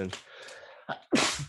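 A single sharp sneeze bursts out loudly near the end, following a stretch of casual conversation among people chatting indoors.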